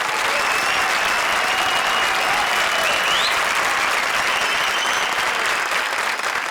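A studio audience at a comedy show applauds four poet pairs, a loud, even, sustained burst of clapping filling the space, with faint whoops rising over the crowd.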